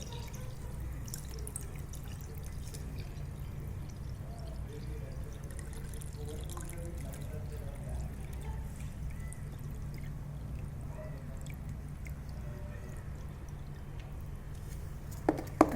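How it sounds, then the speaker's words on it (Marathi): Water is tipped off soaking wheat grains during washing, a faint, steady pouring and trickling wash that runs evenly for the whole stretch, ending in a couple of small knocks. "आपण याच्यातलं पाणी काढून दोन तीन वेळा घेणार आहोत आणि परत पाणी टाकून भिजत ठेवणार आहोत"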